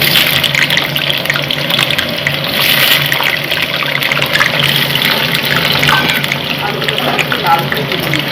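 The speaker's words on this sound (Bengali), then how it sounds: "এখন আমি আলুগুলোকে ভেজে নিচ্ছি। তেল আমি গরম করে নিয়েছি।" Potatoes frying in hot oil give a loud, steady, dense sizzle that stays close and constant the whole time, with no breaks.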